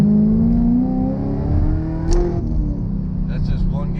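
Supercharged 2014 Chevrolet Camaro SS with Whipple supercharger and long-tube headers pulls hard, its engine note rising, then briefly dipping through one gear change before climbing again, heard from inside the car.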